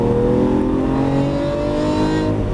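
A Lamborghini Aventador LP700-4 accelerating hard on a track, its engine note loud, close and continuous with a rising pitch throughout.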